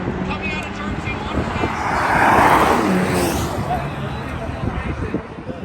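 A Tesla launches down a drag strip at a spectator drag event, its electric whine rising and fading as it passes, with a crowd murmuring and a commentator's voice running underneath throughout.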